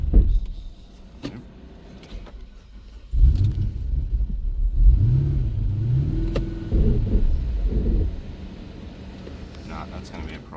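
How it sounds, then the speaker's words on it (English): A 6.1L HEMI V8 in a Jeep Grand Cherokee SRT8 with an untuned camshaft revs in rising and falling swells, a deep rumble near the microphone that eases back toward a rough idle with brief pauses between. "I have to hold the revs up to put it into gear"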